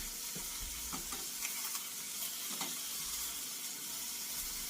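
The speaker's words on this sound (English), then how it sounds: "I've got the bacon end pieces in here. I'm doing them up right now." Bacon end pieces sizzle and crackle in a pan, a steady quiet frying hiss with occasional soft stirring scrapes and clicks, close by and without talk.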